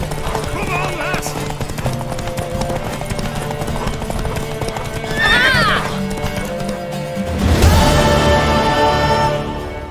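A horse neighs and gallops in The Witcher 3, quick clip-clop hoofbeats under game music. A sharp whinny rises midway and a louder neigh bursts near the end.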